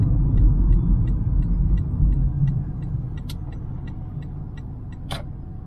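A Toyota Prius hybrid rolls along with a low, steady road rumble that slowly fades as the engine shuts off, with faint ticking and a brief sharp click near the end; no talking.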